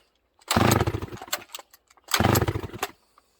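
A Sachs Dolmar 153 two-stroke chainsaw, freshly reassembled, fires in two short loud rattling bursts of about a second each, separated by a pause, then falls quiet.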